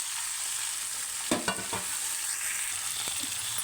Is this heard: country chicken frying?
yes